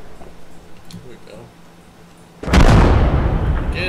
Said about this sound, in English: There's explosions.